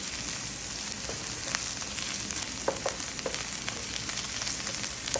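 Tomato paste being stirred into a mixture frying in a pan for jareesh, giving a steady, close sizzle with scattered small crackles and pops throughout.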